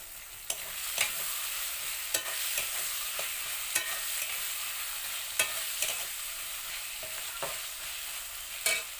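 Garlic paste and chopped tomato sizzle steadily in a hot pan, a bright continuous frying hiss broken by regular scraping stirs, close and alone with no voices.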